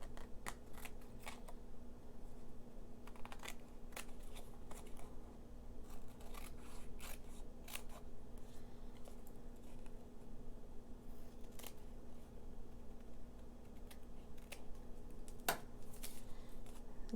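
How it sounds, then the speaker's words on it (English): Scissors cut paper in repeated sharp snipping clicks at an irregular pace over a steady low hum, close by, with no talking. "And then we're just going to take our scissors"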